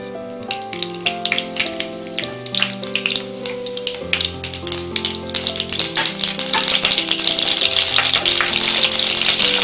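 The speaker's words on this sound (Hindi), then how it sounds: "राई फूट चुकी है" Mustard seeds splutter and crackle in hot oil in a pan, a sharp popping that builds over time beneath prominent background music.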